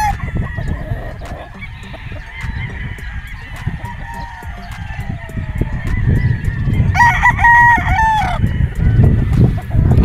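Several gamefowl roosters, battle-cross and pure Golden Boy stock, crow at a breeding farm, one loud near crow standing out over a steady background of other crowing and clucking birds.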